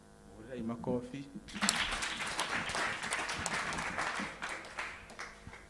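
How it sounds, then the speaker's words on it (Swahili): A congregation at a Sunday service in Njatha-ini bursts into sustained applause right after a brief spoken line. The dense clapping fills the room, close and lively, and continues to the end. "Makofi."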